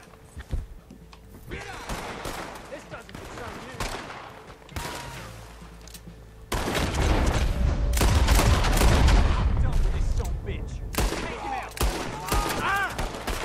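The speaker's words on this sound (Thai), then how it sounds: "เสียงอะไรน่ะ เขายิงกันอาเธอร์" Gunfire in Red Dead Redemption 2, starting as scattered distant shots and breaking into dense, loud volleys of rapid fire, with a voice talking under parts of it.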